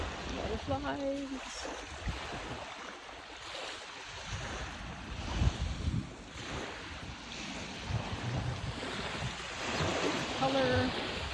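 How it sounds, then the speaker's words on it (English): Waves wash onto West Beach at Port Hope, a broad, continuous surf wash with gusts of wind buffeting the microphone and faint voices and sounds in the background. "It's a nice little area for some waves."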